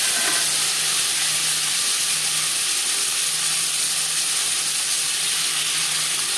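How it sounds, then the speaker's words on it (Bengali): Tomatoes hit hot oil with five-spice seeds and a bay leaf for a potato and katla fish curry, giving a loud, steady hissing sizzle that stays constant throughout at close range. "15-20 সেকেন্ড 5 ফোড়ন তেজপাতা ভেজে নেওয়ার পর দিয়ে দেবো টমেটো"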